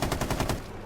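Rapid bursts from a light machine gun in a tactical shooter video game, fired automatically at close range with a steady, fast rhythm that stops abruptly.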